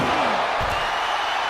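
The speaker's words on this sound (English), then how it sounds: "Goes to close one of those doors." Ambulance door slammed shut during a wrestling match, a single loud bang near the start that rings out over steady crowd noise and commentary.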